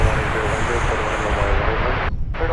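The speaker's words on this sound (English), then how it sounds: "This plane has requested the full runway." A jet airliner rolls down the full length of a runway at Dallas/Fort Worth International Airport for takeoff, its engines giving a loud, steady broadband roar. The roar stays constant throughout and briefly thins near the end.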